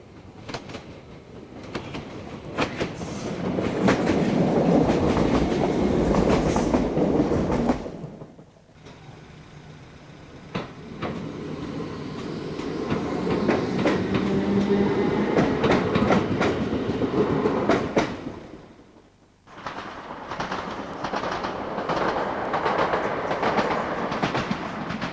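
A Class 456 electric train rumbles past up close, wheels clattering rhythmically over points, the noise swelling and easing as carriages roll through.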